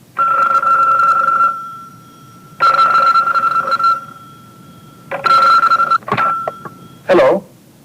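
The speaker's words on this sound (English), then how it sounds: "Early Monday morning, Mr. Kondo receives a phone call at home" A home telephone rings in a radio English-conversation skit. The loud ringing comes in repeated bursts with short pauses between them, close to the microphone, and the last rings are shorter.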